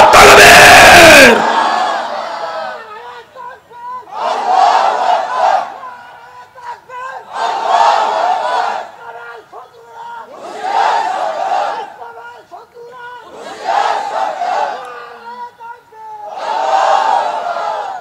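A large crowd at an Islamic religious gathering shouts the takbir chant in unison, with about six loud, roaring calls at regular intervals. A short, sharp sound opens the sequence, and the hall falls quieter between calls.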